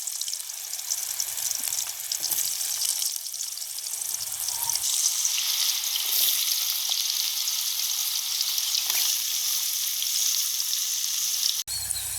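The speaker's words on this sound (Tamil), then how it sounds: "கத்திரிக்காய் பொரிஞ்சிச்சு எடுப்போம்" Eggplant pieces sizzle and crackle steadily in hot oil, a continuous close frying hiss with small pops and no talking.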